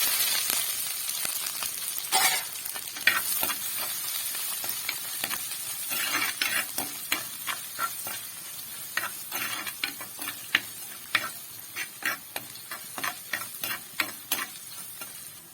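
Crushed garlic and ginger go into hot oil in a pan for a Kerala-style fish curry with chilli, giving a steady close sizzle broken by many sharp stirring clinks and scrapes, with no talking.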